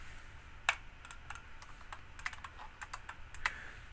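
Keyboard shortcut presses on a computer while editing a ring design, a quick scatter of sharp, close clicks and taps in irregular bursts, with no one talking.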